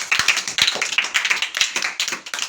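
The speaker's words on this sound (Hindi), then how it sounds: "चलिए बच्चों ताली बजाओ।" A group of children clap along together, a quick run of sharp, uneven claps close by that keeps going without a break.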